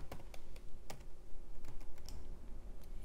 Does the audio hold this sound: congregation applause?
no